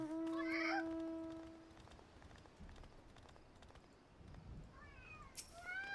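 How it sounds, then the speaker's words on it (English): A pet cat meows quietly in a room, with a short cry at the start and thin, rising mewing calls near the end over a low background. "You probably hear my cat right now."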